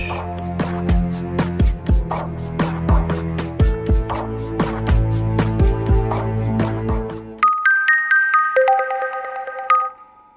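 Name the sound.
phone ringing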